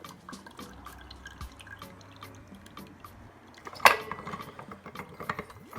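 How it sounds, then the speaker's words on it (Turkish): Juice squeezed from an orange and a lemon drips in scattered small drops and trickles, close and fairly quiet, with one louder splash near the end. "limonunu sıkıyoruz şimdi. Bir portakal, bir adet limon."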